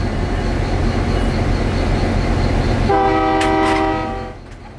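A newly fitted locomotive horn at the Florida Railroad Museum sounds a loud, close chord blast for about a second over heavy engine rumble and rail noise, then fades.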